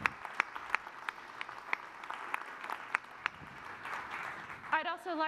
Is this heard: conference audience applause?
yes